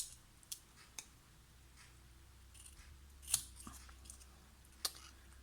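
Very sharp small snips fussy cut stamped paper images, giving a few faint, isolated crisp snips spaced irregularly over a quiet background.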